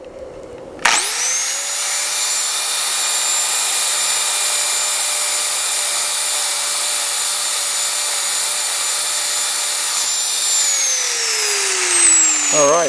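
An angle grinder spins up and grinds a seized bolt head clean for welding, a loud steady high whine held for about ten seconds before winding down.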